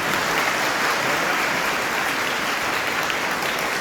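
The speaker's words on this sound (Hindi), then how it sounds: "जोरदार ताली होनी चाहिए।" Loud, sustained applause from an audience of teachers and staff at a gathering, dense clapping holding steady throughout with no speech over it.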